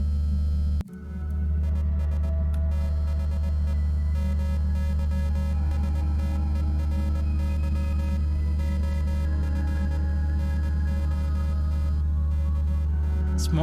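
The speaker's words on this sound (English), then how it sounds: "It's Morse code." A steady electronic tone drones beneath a Morse code signal in a video game, with faint chirping beeps running continuously and evenly at moderate loudness and no voices present.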